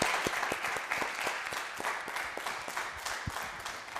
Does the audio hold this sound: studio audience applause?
yes